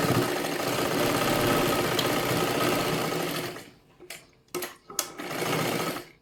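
A sewing machine runs fast and loud, stitching a blouse in one long, steady burst. It stops, then picks up again in several short, sharp bursts of stitches.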